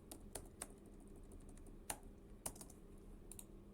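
Sparse keystrokes on a computer keyboard, quiet and close, with a few sharper taps standing out against a low steady room hum.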